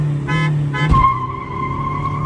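A car horn sounds in two short honks to start a drag race between a Kia Seltos and a Honda City, followed by a surging engine rising in pitch, loud and close.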